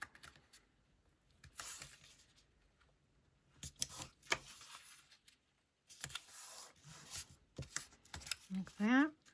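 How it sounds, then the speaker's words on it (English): Paper card pages for a gingerbread card being scored along a line and folded, giving short scratchy scrapes and crisp rustles separated by quiet gaps, with someone speaking between the sounds. "So we're going to score that. Going to fold to that score line."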